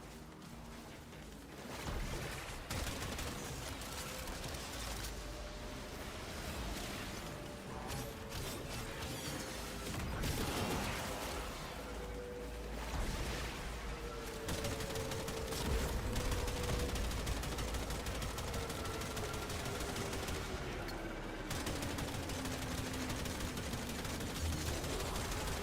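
Dense combat noise from the video game Warframe, with shotgun blasts and rattling gunfire under a steady, busy wash of effects and a wavering tone, fairly even in loudness throughout, no voices.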